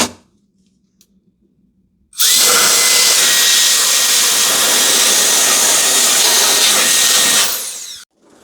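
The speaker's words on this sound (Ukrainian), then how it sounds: "Всю пилюку та брус здуває ось таким вентилятором." An air blower fan roars steadily for about six seconds as it blows dust off an SG316-MAX RC car, starting abruptly after a quiet pause and cutting off sharply, loud and close.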